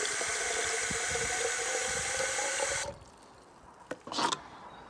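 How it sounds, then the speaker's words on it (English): Steady rushing of water filling a one-litre bottle, running continuously for about three seconds, then stopping, followed by a couple of brief splashy bursts. "Then we'll fill them both with water."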